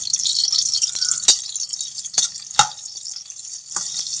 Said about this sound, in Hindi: अब एक पैन लेंगे जिसमें 2 खाने के छोटे चम्मच हमने ऑयल डाला है और इसमें जीरा डाल देंगे